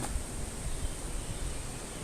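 Wind rushes steadily in the distance beyond a sheltering canopy of leaves, a soft continuous noisy wash with no distinct gusts and no talking.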